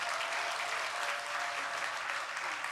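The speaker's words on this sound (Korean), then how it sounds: "우리 박수로 축복하시겠습니다" Steady clapping from a large church congregation during a Sunday service, sustained and even throughout with no pauses.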